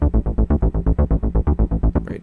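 Rolling techno bassline from a Rob Papen Predator synth with adjusted note velocity and retuned third note, about fourteen punchy pulses in steady rhythm, loud and close, playing alone.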